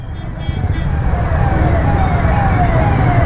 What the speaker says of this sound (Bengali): ও ভাই অ্যাম্বুলেন্স